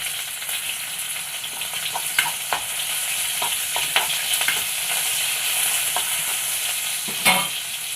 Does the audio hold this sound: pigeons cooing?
no